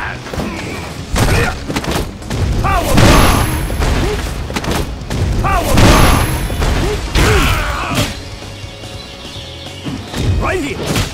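Heavy slam impacts and booming thuds from a Street Fighter V power bomb, repeated several times amid crowd-like noise and loud game voice calls, dense and close throughout.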